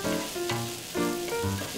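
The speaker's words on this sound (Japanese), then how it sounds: "若干炒めていただき" Kawara soba stir-fried on a square hot plate, a continuous sizzle with soft scraping strokes that come back every half second or so, close and moderately loud, with no talking.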